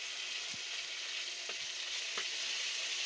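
Finely chopped bitter gourd leaves frying in a pan, a steady, even sizzle that carries throughout with a few soft stirring knocks.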